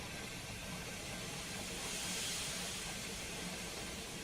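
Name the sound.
steam locomotive safety valves blowing off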